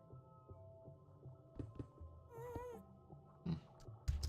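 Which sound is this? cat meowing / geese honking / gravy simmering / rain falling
cat meowing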